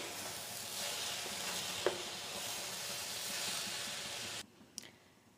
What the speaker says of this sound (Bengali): 5 মিনিট ঢেকে গাজর রান্না করার মধ্যেখানে আমি একবার নেড়ে দিচ্ছি।